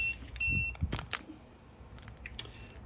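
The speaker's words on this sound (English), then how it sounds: "it's beeping out the last altitude" A few short, high electronic beeps from an Eggtimer Quark altimeter sound in a quiet room, spaced apart, alongside faint handling noises.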